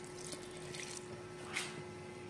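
A little water poured into a pot of cooking squash and vegetables for ginataan kalabasa, a soft brief trickle and splash over a faint steady hum.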